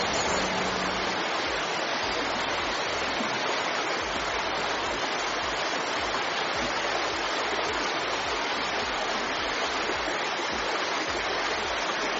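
Vibhooti Falls near Gokarna pours in a steady, dense roar of rushing water that stays constant and loud throughout, with no voices.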